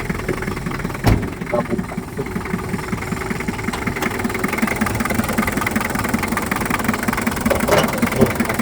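A 1989 Daihatsu Taft GT 4x4 engine idles steadily and close, with an even rumbling chug and a faint ticking knock throughout, a brief thump near the start and someone speaking briefly over it.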